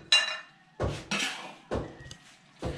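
A utensil clanks and scrapes inside a pot as braised rice with green beans and cured meat is mixed over a wood fire, a few separate metallic knocks at an uneven pace, close and fairly quiet.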